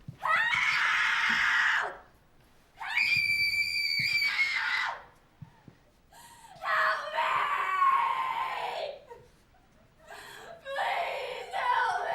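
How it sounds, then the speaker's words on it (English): A woman screams and yells for help in the 2018 serial killer film The House That Jack Built, letting out long, loud, shrill cries in several drawn-out bursts separated by short silences. "He tells her it'd be a good time to scream, and she begins to yell for help."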